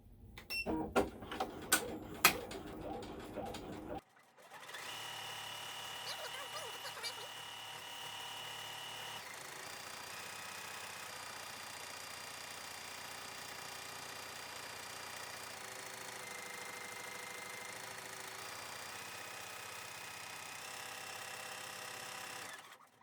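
An embroidery machine stitches a satin-stitch design on a tentacle and chimney motif, a steady, even mechanical whir with a fast needle rhythm running continuously and close by after a brief burst of clattering at the start.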